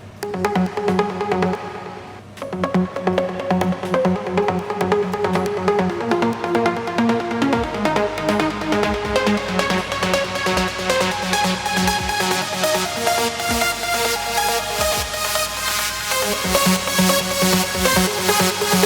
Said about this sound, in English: So this is sort of the typical Uplifting Trance ARP